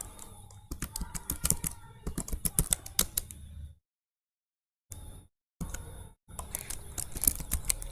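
Someone types on a computer keyboard while entering spreadsheet text, with rapid close clicks in bursts, a full pause of about a second, then a couple of short taps before the typing resumes.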